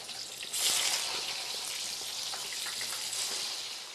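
Chicken pieces with unpeeled, lightly crushed whole garlic cloves fry in a pan over the fire, giving a steady, close crackling sizzle that swells in intensity early on and keeps going alone.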